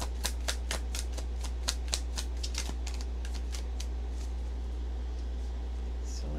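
Tarot cards are flicked and laid down one after another in quick, crisp snaps, thinning out toward the end over a low steady hum.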